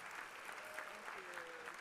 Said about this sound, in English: A round of applause for Mrs.